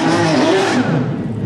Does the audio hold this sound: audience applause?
no